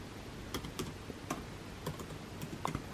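Quiet typing on a computer keyboard into a search bar, a string of light irregular key clicks, close and alone.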